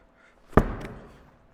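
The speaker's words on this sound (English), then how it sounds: "we're going to do 10 reps of ball slams" A medicine ball is slammed down hard in a ball slam exercise, making one sharp, loud thud close by. A quick bounce follows, then a short decaying rumble.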